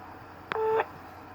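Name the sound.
voicemail recording tone after the message prompt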